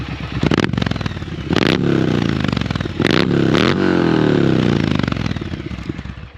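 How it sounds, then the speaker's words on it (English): A motorcycle engine revved hard several times, close and loud, each blip of throttle rising sharply over a rough, continuous idle, with no voices. "All right, let's give it some gas."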